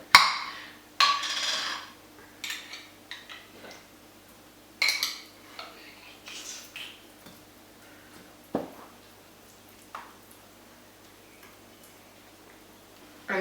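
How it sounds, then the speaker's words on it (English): A fork spreads raspberry jam across a glass oven-proof dish, giving scattered light clinks and scraping taps at an irregular pace, some sharper knocks among softer scrapes, close by and with no talking. "I just used a fork just to spread it."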